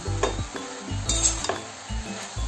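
Vegetables with grated turmeric are stirred in a hot pan: a utensil scrapes and knocks against metal in a few quick strokes over a soft sizzle, close and fairly loud, without speech.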